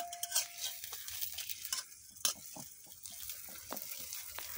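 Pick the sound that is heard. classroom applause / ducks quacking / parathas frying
parathas frying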